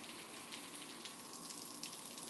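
Rain falls outdoors in Texas flooding, a constant wide hiss of drops spattering on surfaces, continuous and unbroken with no voices.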